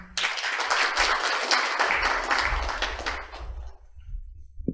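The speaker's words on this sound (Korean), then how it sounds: "큰 박수로 환영해 주십시오." A crowd at a vision declaration ceremony in Asan applauds in a brisk, dense burst that stays loud for about three seconds, then tapers off quickly into low room noise and shuffling.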